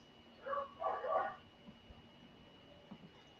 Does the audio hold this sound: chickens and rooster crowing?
no